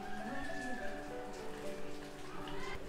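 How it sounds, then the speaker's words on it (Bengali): Steady rain patters down at Sillery Gaon in Sikkim, a soft continuous hiss that fills the background, fairly faint and even throughout. "কিন্তু বৃষ্টি শুরু হয়ে গেছে"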